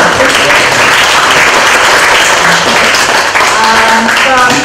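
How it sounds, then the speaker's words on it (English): A large audience applauds steadily with dense, continuous clapping, and faint voices and cheers poke through the noise. "please give a big round of applause to our presenters"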